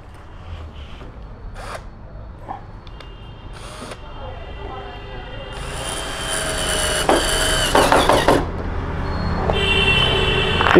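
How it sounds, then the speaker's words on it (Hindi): Screws being driven tightly into the wooden frame of a sofa, with clicks and taps followed by longer buzzing bursts of a power screwdriver, close and fairly loud. "इसके अंदर भी स्क्रू हमने कस के लगाने हैं"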